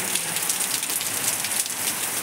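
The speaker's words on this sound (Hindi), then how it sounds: "बारिश फिर से होने लगा" Steady first rain of the season falls on surfaces nearby, a dense, even hiss of drops with no pauses and no voices.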